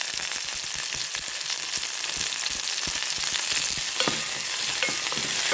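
Small onions frying in oil with fenugreek seeds and garlic give a close, steady, bright sizzle with scattered crackles and pops, continuous and alone throughout.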